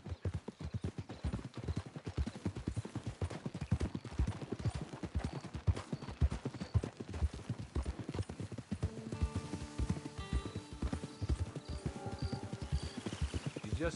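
Horse hooves clip-clop in steady rhythm across Red Dead Redemption 2, clear and continuous at moderate volume, with soft tonal game sounds joining in toward the end.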